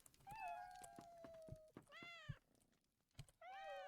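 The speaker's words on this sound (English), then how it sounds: "And there are just cats everywhere." Several cats meow in a cat house in The Lord of the Rings Online, a game: a long drawn-out meow, a couple of shorter mews and a final loud wail, with soft thumps between, no speech.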